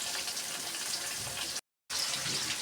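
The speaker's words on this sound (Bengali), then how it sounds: "আর আমি সরিষার তেলে মাছ ভাজছি" Hilsa fish frying in mustard oil: a dense, steady hiss of sizzling close up, broken by a brief total dropout before resuming.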